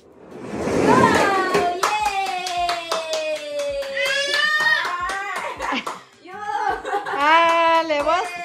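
A family clapping hands for a small child, with bursts of quick claps under cheerful chatter, a voice and some laughter close by.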